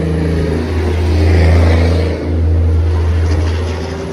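A truck's engine rumbles loud and close behind the scenes at the Magic Kingdom, a steady deep drone that swells and dips briefly as it arrives, with no talking.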